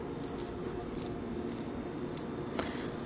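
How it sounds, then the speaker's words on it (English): A textured fishnet-like shirt rustles and scratches in several short, crisp bursts close to the microphone over a steady background hiss. "Just love the sounds of the shirt."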